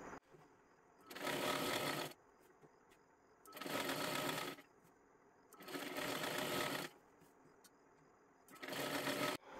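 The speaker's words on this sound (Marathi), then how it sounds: "इथे पूर्ण घेरला आपल्याला शिलाई करून घ्यायचं आहे" A sewing machine stitches all the way around a hem on a girls' long one-piece dress, running in four steady bursts of about a second each, separated by short quiet pauses.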